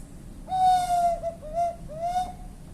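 A handmade wooden birdcall whistle mimics the Zabelé bird with three soft, hooting whistled notes. Each note glides slightly downward, and the notes are spaced at a relaxed pace over quiet background.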